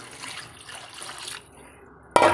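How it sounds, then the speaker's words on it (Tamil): Water being poured from a container into a pot of chicken curry (Tamil-style kozhi kulambu), a close splash that starts abruptly near the end after quiet kitchen background. "நம்ம தண்ணி ஊற்றி இப்போ வேக விடலாம். இப்போ தண்ணி ஊற்றிக்கலாங்க"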